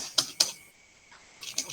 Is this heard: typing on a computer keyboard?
yes